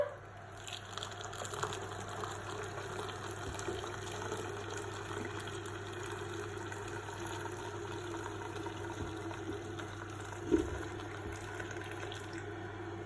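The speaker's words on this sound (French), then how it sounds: "avec un entonnoir, je vais venir verser mon eau bouillante" Boiling water poured through a funnel into yogurt jars inside a Cookeo cooker, a steady faint trickle over a low constant hum with one brief clink partway through.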